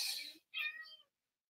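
A house cat gives two short meows in an otherwise quiet room, close and fairly soft, the second slightly longer.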